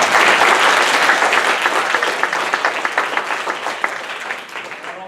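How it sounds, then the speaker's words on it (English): A room of students and guests applauds at a 2016 MOWW student event. The loud, full round of clapping starts at once, then thins gradually until separate claps are distinct near the end. "So give Colby a round of applause."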